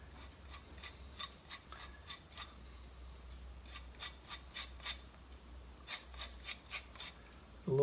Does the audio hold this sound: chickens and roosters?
no